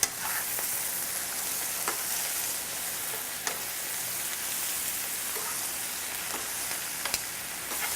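About a pound of spinach sizzles and cooks down in a hot pan, a constant bright frying hiss. A few faint stirring clicks and pops rise above it, and no one speaks.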